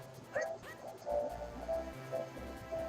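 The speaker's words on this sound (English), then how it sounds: "Dog's in the way." A video-game dog gives a few short, faint barks and yips over a low, steady game soundtrack.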